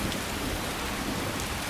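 Rainfall in the fantasy game Skyrim makes a steady, dense hiss of drops that stays constant and fairly close throughout, with no speech.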